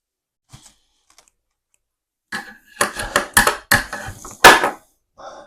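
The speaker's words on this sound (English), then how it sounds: "with some good scissors, it shouldn't be too hard to get through" Several sharp crunching snips in quick succession, close and fairly loud, after a quiet start, as scissors chew through tape and bandage of boxing hand wraps.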